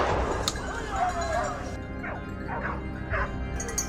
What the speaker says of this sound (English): The moment we heard barking, we knew the prey had been cornered.